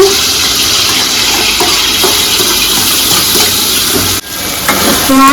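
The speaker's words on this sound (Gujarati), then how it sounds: "તો આપણે તેલ ગરમ થઈ ગયું છે, થોડુંક આપણે એમાં ટમેટા નાખી દેવું।" Tomatoes hitting hot oil for pav bhaji in a home kitchen, a loud continuous sizzle and hiss close up, briefly interrupted by a sharp knock before the sizzling resumes.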